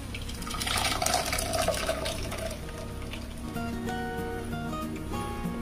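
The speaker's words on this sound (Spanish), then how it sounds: "vamos a colarlo" Blended prawn or shrimp liquid is poured through a strainer in a home kitchen, a steady close trickle and splash of liquid that runs throughout with no talk.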